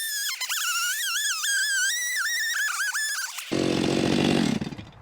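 A Stihl 462CM chainsaw revs up with a rising and falling whine before biting into oak and walnut firewood; a rougher, louder cutting roar takes over for the final second and a half, close by with no talking.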